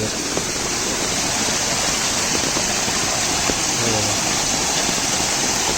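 Fast, flooded stream in heavy monsoon rain in Konkan rushes in a loud, continuous broadband roar, steady throughout with no voices.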